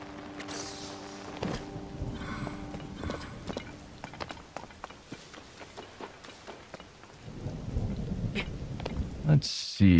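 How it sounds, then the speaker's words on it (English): In Zelda: Tears of the Kingdom, lightning strikes bring rolling thunder and rain, with sharp cracks and booms over a patter of rain and a loud burst at the very end. "Lightning strikes, always fun."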